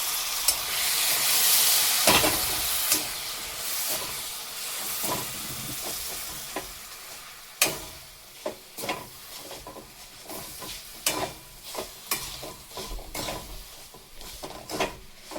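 Jaggery melting with a spoonful of water softly sizzles and bubbles in a pan, broken by repeated scraping knocks of a spoon stirring, fairly quiet and close.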